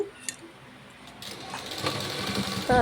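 A sewing machine stitches lining cloth together, running in a short burst that builds from quiet handling noises into a steady mechanical whir and closes with a louder rattle.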